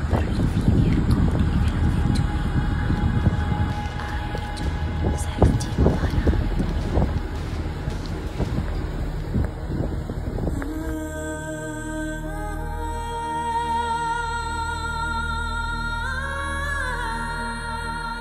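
Strong coastal storm wind buffets the microphone with heavy rumbling gusts and scattered clatter for the first half, then gives way to a tonal, musical passage.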